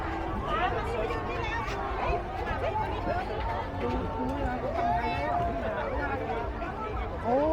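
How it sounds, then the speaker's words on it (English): A dense crowd packs a Pattaya fireworks festival, with a steady hubbub of many overlapping voices chattering close by and nearby speech standing out over the babble. "Look at the crowd here."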